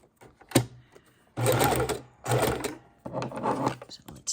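A sewing machine runs zigzag stitches with brown thread in quick bursts, three main runs of rapid mechanical chatter separated by short pauses, close and clear, with a voice speaking in between.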